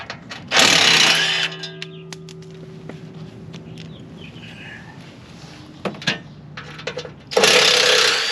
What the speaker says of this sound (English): DeWalt 1/4 inch ratchet with a